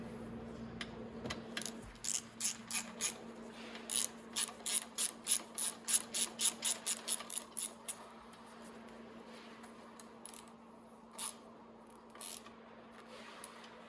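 A hand ratchet tightens a steering column bolt on a Venom E-Madix 1300w electric ATV, giving a close run of rapid, regular clicks that slows to a few scattered clicks over a low steady hum.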